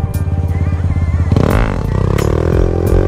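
Motorcycle engine idling at roughly 2000 rpm on a stock idle setting during a circle wheelie: a close, loud, rapid putter that swells into a brief throttle blip partway through, then settles back to a steady run.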